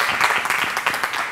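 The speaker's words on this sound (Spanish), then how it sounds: "¡Fuerte aplauso para Dani Jimeno!" A TV studio audience breaks into applause for a guest, a dense, steady wash of many hands clapping at close range, filling the short stretch without pause.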